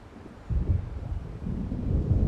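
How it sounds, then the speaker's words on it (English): Low rolling thunder from a storm moving in over dark lake waters in Alan Wake Remastered, a deep rumble that swells and lingers without any voices. "It seems there's a storm coming."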